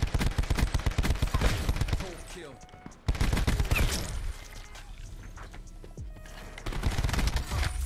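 Tigershark light machine gun fire in a video game rattles in dense, loud rapid bursts, pausing briefly before another long stream of shots and scattered impacts.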